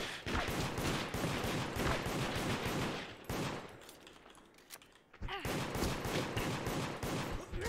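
Rapid gunfire in the video game Deceit, with dense bursts of shots that dip into a quieter stretch midway and then pick up again, fairly faint overall.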